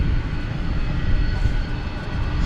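UPS cargo jets, an MD-11 and a 757, at DFW airport at night, a steady broad engine rumble and whine heard from a distance, continuous and fairly loud with no talk.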